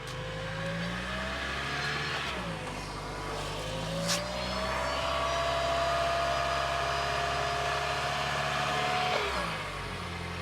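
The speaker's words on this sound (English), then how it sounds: "Can you rev it a little bit?" A car engine idles, then is revved and held at higher speed before dropping back, its steady drone rising and falling loudly close by with no talking.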